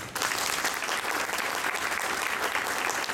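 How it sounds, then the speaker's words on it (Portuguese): Audience applause at a ceremony for Curitiba's disability-rights office, a dense burst of clapping that holds steady and loud for a few seconds. "recebe novamente nossa salva de palmas"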